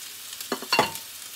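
Beef meatballs frying in oil with onions added to the pan, a short close sizzle with a couple of stirring scrapes and spatters.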